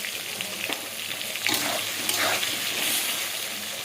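Tomato, green chilli and turmeric frying in a pan for khichuri, giving a steady close sizzle with wet hissing bursts as the mix is stirred, no voices.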